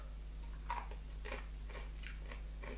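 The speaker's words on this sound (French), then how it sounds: "Elles sont super croustillantes, je sais pas si vous entendez." Crunchy palm-oil-free biscuits are chewed close to the mic: a handful of faint, dry crunching bites spaced out over a quiet, humming background.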